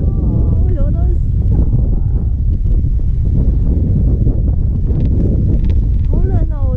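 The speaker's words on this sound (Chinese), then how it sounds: "我这左半边一直被吹风，好冷" Wind buffets the microphone on a ski slope at Shiga in January, a steady low rumble running under the whole stretch while people talk over it.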